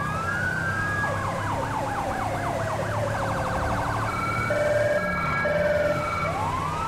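An ambulance siren in Grand Theft Auto V with the LSPDFR mod wails, sweeping up and down, then switches to a rapid yelp, with a steady engine drone underneath and a couple of short horn-like tones near the end.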